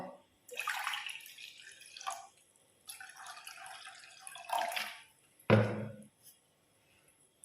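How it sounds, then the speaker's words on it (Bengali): Water poured into a pan of sugar syrup while making malai chomchom, heard as a few bursts of splashing and trickling with a louder splash near the end, with no talk. "এবার এখানে আমি আরও কিছুটা জল দেবো"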